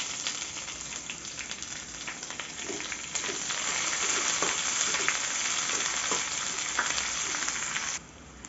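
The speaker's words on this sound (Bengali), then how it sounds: "লঙ্কার কারি পাতাটা একটু ভেজে এলে ওর মধ্যে দিয়ে দেব পেঁয়াজ কুচিটা।" Chilies, curry leaves and chopped onion frying in a pan, a steady close sizzle that grows louder partway through with light stirring scrapes, then drops off near the end.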